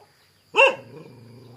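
A single sharp dog bark rings out close and fairly loud, then fades into a low, steady murmur of background noise.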